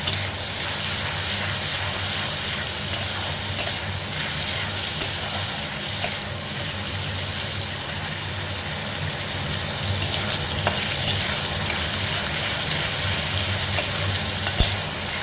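Spice paste for jackfruit seed bharta sautéing in a pan, a steady sizzling fry with soft hiss and occasional light clicks of stirring, continuous and fairly close with no talking.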